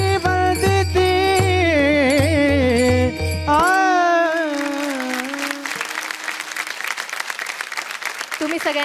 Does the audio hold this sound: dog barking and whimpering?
no